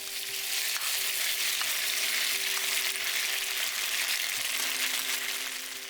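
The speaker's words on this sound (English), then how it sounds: "On medium-high heat, heat up oil. In goes half of the marinated beef." Marinated beef for Cambodian lok lak hits hot oil in a pan over medium-high heat, giving off a loud, steady, close sizzle with a faint hum underneath.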